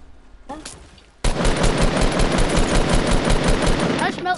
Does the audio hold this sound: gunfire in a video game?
yes